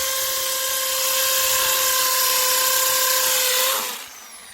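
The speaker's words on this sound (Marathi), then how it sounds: "आपली प्रोसेस चालू आहे की याला स्क्रू बसवायचा" Power drill driving screws during construction of a shed: a loud, steady high-pitched whine held for several seconds, then dropping off sharply as the trigger is released.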